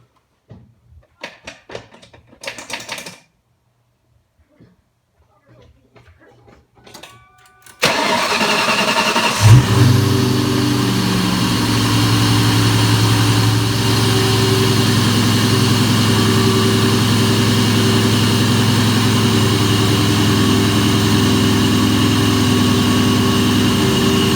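A 1996–2004 Ford Mustang Cobra/Mach 1 4V DOHC V8 cranks over and fires up after a few quiet seconds of faint movement, then settles into a steady, loud idle that holds for the rest of the time.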